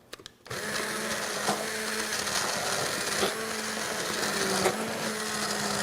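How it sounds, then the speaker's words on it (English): A hand blender purees butter chicken sauce with a continuous loud electric whir, starting abruptly after a short quiet moment and running steadily with slight pitch shifts as it works through the sauce. "I have our hand blender."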